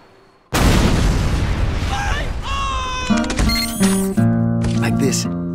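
A heavy-caliber, tripod-mounted sentry gun firing in Team Fortress 2: a loud, sustained roar of rapid shots gives way to ringing tonal sounds and mechanical clatter.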